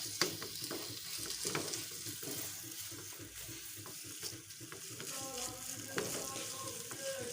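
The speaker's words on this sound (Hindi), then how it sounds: "सारे मसाले को अच्छे से मिक्स कर लेंगे" A spice mixture is stirred in a frying pan for a tomato egg omelet, giving steady sizzling and frying with repeated scraping strokes of the spoon throughout, close and moderately loud, with no speech.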